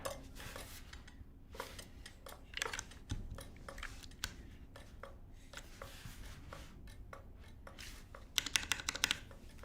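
Custom mechanical keyboard fitted with a fancy keycap, its keys typed in quick irregular clacks with a few louder strikes near the end, heard close and alone.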